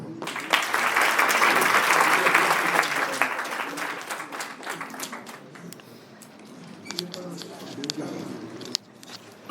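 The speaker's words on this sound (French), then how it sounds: "Nous vous applaudissons." Applause from a conference panel audience, strongest at first and then thinning into scattered clapping, with voices talking over it toward the end.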